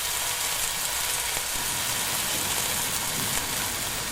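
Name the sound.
salmon sizzling in a hot Ninja Zerostick pan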